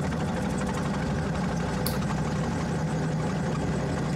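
Engine of an autogyro aircraft running in flight, a steady, loud, continuous droning hum with a rough low-end rumble and no voices, apart from one brief high click.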